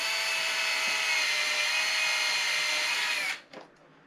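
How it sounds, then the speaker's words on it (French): A power drill bores deeper into a hole for a modification job, whining loud and steady at a constant pitch for over three seconds, then stops abruptly with a brief clatter after. "On perce plus loin."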